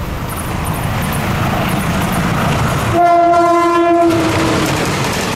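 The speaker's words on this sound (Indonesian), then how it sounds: "sewaktu dia menarik kereta api Logawa rangkaian stainless steel next generation" A diesel locomotive hauling the Logawa passenger train with stainless steel carriages rumbles loudly past, with a steady horn blast sounding for about a second midway over the rolling noise.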